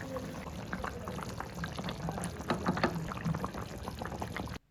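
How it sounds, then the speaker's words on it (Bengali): Hot water poured into a pot of rui fish curry with cauliflower and potato, a continuous splashing, bubbling flow lasting several seconds at close range, with no one speaking. "হয়ে গেলে আমি এর মধ্যে অ্যাড করব পরিমাণ মতো গরম জল।"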